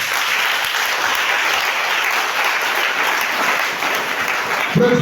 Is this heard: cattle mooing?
no